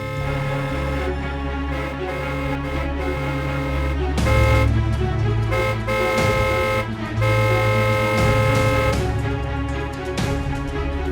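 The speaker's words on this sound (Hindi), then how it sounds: "कौन है ये जो तब से पागलों की तरह हॉर्न बजाया जा रहा है?" A car horn blares over and over in long, insistent honks with brief breaks, loud and nearby, over a low rumble of traffic.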